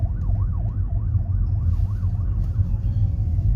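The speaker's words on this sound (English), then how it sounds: "Now that sounds like a fire engine" A fire engine siren wails through traffic, its rising and falling tone cycling steadily over a loud low rumble of car engine and road noise, fairly close, with no talk.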